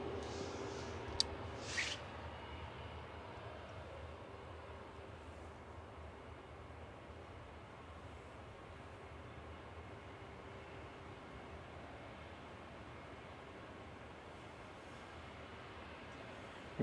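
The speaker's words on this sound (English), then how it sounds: "Here is Vueling heading back to Barcelona, flight 8749 ECMMH, Airbus A321." A Vueling Airbus A321 airliner departs Manchester Airport, heard as a faint, steady distant engine roar lasting throughout with a couple of brief sharp noises near the start.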